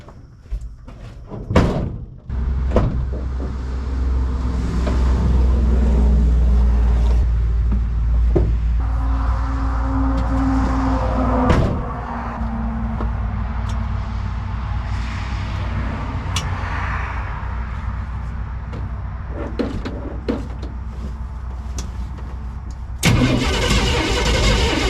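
A homemade car build starts up and is driven for the first time: a mid-pitched engine cranks, catches and runs steadily with revving, near and loud, with a door clunk and other thumps around it.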